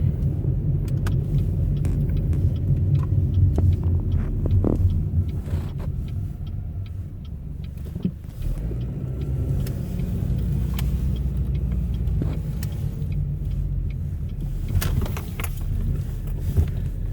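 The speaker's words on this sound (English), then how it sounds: "I think that's Greg's car right there" A car rumbles nearby with a steady low engine drone, punctuated by occasional clicks and knocks, its sound shifting midway as it approaches and settles.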